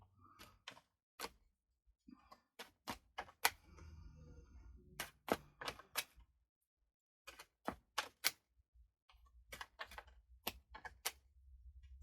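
Tarot cards being shuffled by hand give quiet, scattered clicks and soft snaps in short irregular clusters with brief pauses, close and alone with no voices.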